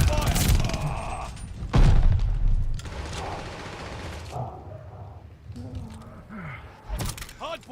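Gunfire in Call of Duty: Vanguard, bursts of rapid shots and booming impacts that are loudest at the start and again around two seconds in, then thinning to scattered distant fire, with speech over parts of it.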